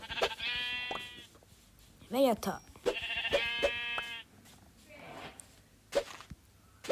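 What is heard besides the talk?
sheep bleating in a video game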